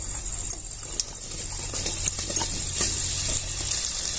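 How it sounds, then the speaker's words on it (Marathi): Grated coconut roasting in ghee in a pan while being stirred: quiet scraping strokes of a spoon over a soft, continuous sizzle, close and without talk. "खोबरं छान परतून घ्यायचंय आपल्याला"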